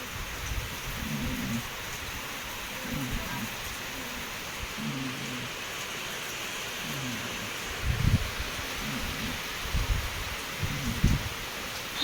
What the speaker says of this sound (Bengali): এত বৃষ্টি নে আম্মা, বৃষ্টি ছাড়তাইছে না